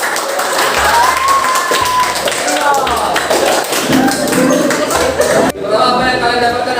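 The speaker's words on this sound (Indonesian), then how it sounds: "kita beri aplaus dulu" A class of students applauds in a school coaching and academic supervision session, with dense clapping running through most of the stretch and voices mixed in.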